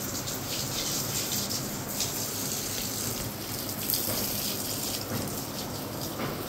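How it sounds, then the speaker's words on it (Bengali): Water runs steadily while plants are being watered on an upstairs spot, a continuous close gushing flow that keeps a fairly even level throughout with no voices. "এখন উপরে চলে এসেছি গাছে জল দিতে।"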